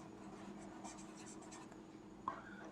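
Someone writes on a board in a classroom, soft scratchy strokes in short bursts against a quiet room, ending with a small tap.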